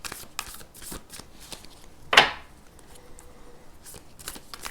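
Animal oracle cards being shuffled, heard as soft riffling with one sharp, louder card snap in the middle, close and alone.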